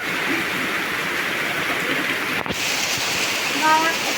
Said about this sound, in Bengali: বৃষ্টি শুরু হয়ে গেছে দেখো কি জোরে বৃষ্টি চলে এসেছে